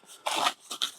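A blade scores a cardboard packing box in two rough scraping strokes, close by and fairly loud, the first longer than the second.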